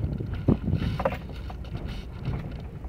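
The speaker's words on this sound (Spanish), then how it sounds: "Ahí voy en primera, suelto acelerador y embrague, ahí va en pura primera" A car crawling over a speed bump in first gear with accelerator and clutch released; low, steady engine and road rumble fills the interior, with a soft thump near the start and light wind noise.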